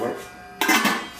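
A lid set onto a cooking pot of baccalà simmering on high heat with wine, a single sharp metallic clank after a quiet stretch, ringing briefly.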